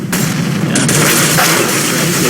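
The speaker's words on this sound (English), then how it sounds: "There goes the incendiary as they move into Flamey." In a Counter-Strike match, an incendiary grenade goes off amid loud, dense, close game noise, a roaring burst with sharp crackles and gunfire-like bangs layered throughout.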